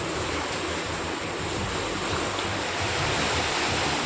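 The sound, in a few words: flooded Alaknanda and Mandakini rivers rushing after cloudburst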